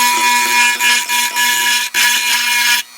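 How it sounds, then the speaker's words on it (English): A small rotary burr tool grinds against a burnt bulb holder, a loud close high-pitched whirring buzz in short bursts with brief pauses. "So I'm going to try to clean up here with a little burr tool."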